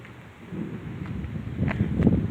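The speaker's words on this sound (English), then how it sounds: "That was a severe thunderstorm." Low rumbling thunder during a severe thunderstorm, growing louder toward the end with a deeper swell near the close, heard over steady outdoor background noise.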